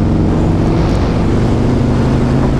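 A 2019 Harley-Davidson Road King Special motorcycle pulls hard under throttle, its steady engine drone loud and close with wind rushing over it throughout.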